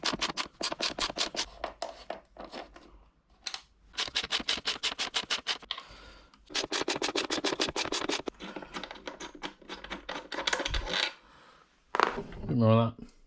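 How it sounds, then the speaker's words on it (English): Ratcheting and clicking of a hand tool loosening the rear foot peg bolts on a 2020 KTM 1290 Super Duke R, close up in repeated quick bursts with pauses, ending in a brief louder rattle. "we need to remove these 2 bolts there and this rear foot"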